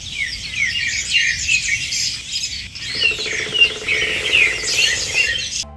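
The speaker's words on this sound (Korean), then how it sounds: "이 시기에 오면 동트기 전 새벽녘에 새들의 오케스트라 공연을 들을 수 있는 캠핑장입니다." Dense birdsong fills a forest campsite at dawn, with many birds chirping and trilling in overlapping calls for the whole stretch, and a steady low hum joins in partway through.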